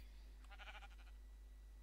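Sheep bleating in Minecraft, a short quivering bleat near the middle of the clip over a steady low hum, with no talk.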